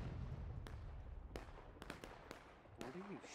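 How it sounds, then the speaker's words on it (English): Musket and rifle shots crack across a Civil War battlefield in the game War of Rights, with scattered sharp reports, some near and some distant, over a low rumbling background and a brief voice near the end. "What are you shooting at?"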